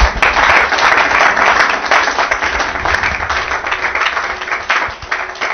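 A church congregation applauds during a Sunday service, steady dense clapping that holds loud and full for the whole stretch, with no voice on top.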